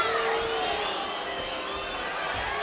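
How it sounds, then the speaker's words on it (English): A boxing arena crowd at a Donaire vs Nishioka fight hoots and hollers, a steady dense roar of cheering voices with scattered shouts and a whistle throughout. "Here the crowd starts to hoot and holler a bit too."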